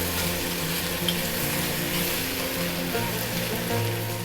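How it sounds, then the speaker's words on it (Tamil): Bitter gourd sautéing in a pan with a little asafoetida powder, giving a steady, close sizzle throughout under a faint tonal hum from the kitchen. "பாருங்கள், பாவக்காய் வந்து ஒரு 3/4 பாகம் வதங்கிடுது"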